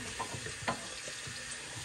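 An item rinsed under a running kitchen tap, a steady close splashing hiss of water with a few soft knocks and clatters as it is moved through the stream.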